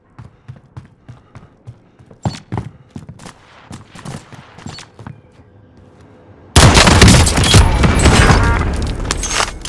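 Gunfire in Call of Duty: Warzone starts as a string of sharp, spaced single shots, then a sudden loud, sustained burst of heavy firing fills the last few seconds.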